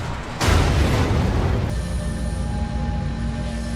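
A reactor explosion from a Chernobyl TV drama bursts in as a sudden loud, broadband boom, then settles into a sustained roaring rumble with a faint tonal hum beneath, no talk.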